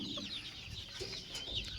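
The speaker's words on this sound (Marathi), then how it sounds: "हे बघा, ही छोटी पिल्ले आहेत, ह्या साईडला खूप मोठी आहेत" Desi country chickens and chicks on a farm, with soft clucking and chick peeping heard faintly but steadily over a quiet outdoor background.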